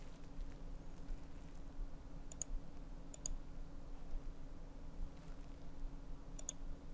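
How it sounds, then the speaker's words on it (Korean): A computer mouse clicks while working in Autodesk Inventor CAD software: a few faint, sharp double clicks spaced seconds apart over a steady low room hum. "클릭 앤 드래그 합니다"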